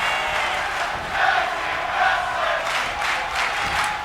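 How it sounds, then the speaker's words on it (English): Crowd at a tag team wrestling match chanting in unison, a rhythmic wall of voices with regular swells, heard from a distance as a continuous mass. "You can hear the crowd chanting tag team wrestling here, ladies and gentlemen."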